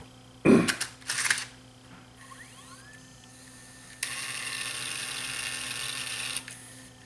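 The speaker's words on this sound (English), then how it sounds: "let's see if this tape will load now. We'll put the tape in. We'll see if it'll thread up." A JVC GY-DV500 camcorder takes a tape: a loud clunk and rattle as the cassette goes in, a soft rising whir, then a steady mechanical whine as the transport threads for a couple of seconds before stopping.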